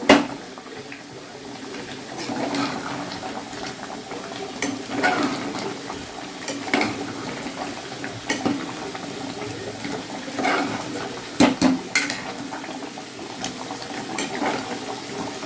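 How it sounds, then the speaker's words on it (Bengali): Mutton is fried and stirred in a pressure cooker, giving a steady close sizzle broken by repeated scraping and clinking strokes of a spoon against the metal. "মাংস বসিয়ে দিয়েছি, প্রেশার কুকারে কষাচ্ছি"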